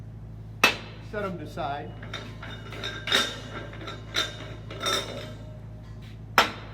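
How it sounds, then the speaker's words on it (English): Valve protection caps come off oxygen and acetylene tanks, giving several sharp metallic clinks and knocks spaced irregularly, with someone talking between them. "So I take off the valve protection caps"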